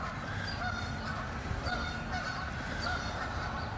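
Geese honking repeatedly in alarm at a dog, several calls overlapping at a moderate distance over a steady outdoor background in Pennsylvania.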